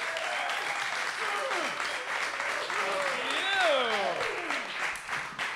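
Loud, sustained applause from a comedy club audience welcoming a stand-up comedian, mixed with whoops and cheers that rise and fall across the crowd.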